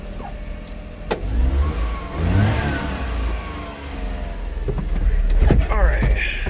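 Engine of a 1994 Daihatsu Hijet Climber kei truck on a cold start, revving up and down with rising and falling whines, loud and close, and a voice speaking over it.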